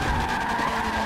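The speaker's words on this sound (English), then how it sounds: "He just rolled his car." A car skids hard in a Forza 7 online hypercar race, its tires screeching continuously over engine noise throughout the short burst, with no voices.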